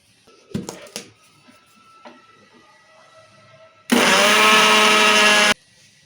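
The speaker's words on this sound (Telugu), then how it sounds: "చక్కెర కూడా మిక్సీ పట్టుకోవాలా మిక్సీ పట్టాలి" A few knocks and clatters, then a mixer grinder whirs loudly for about two seconds grinding sugar to powder before stopping abruptly.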